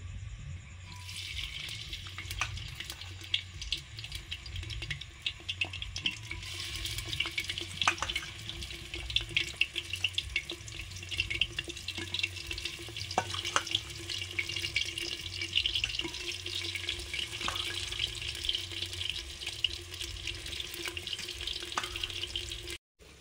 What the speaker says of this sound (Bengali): তেল গরম হয়ে গেছে, এবার মাটনটা দিয়ে দেবো।